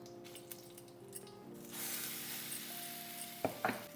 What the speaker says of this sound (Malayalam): ഇച്ചിരി ഓയിൽ ഒഴിക്കുക, കടുകിടുക, ആൻഡ് ഉണക്കമുളക്.